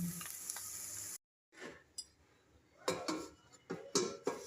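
Shredded cabbage sizzles in a home-kitchen pan while a utensil stirs and scrapes it in uneven bursts, broken by a short silent gap and a few sharp clinks against the metal.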